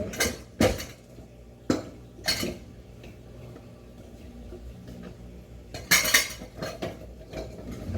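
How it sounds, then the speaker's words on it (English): Muffin batter stirred in a bowl with a utensil, several sharp clinks and scrapes of metal against the bowl at irregular intervals over a quiet background. "Now we're gonna have to stir this up."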